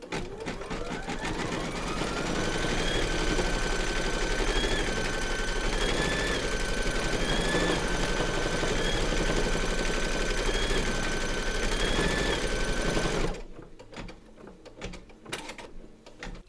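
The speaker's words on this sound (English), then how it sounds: "Pop your hoop into your machine and stitch round number 7 to secure them." An embroidery machine stitches continuously, its steady mechanical whir rising and falling in pitch, while it secures fabric in a hoop for a large surfing Santa design. It then stops abruptly near the end, leaving a few faint clicks.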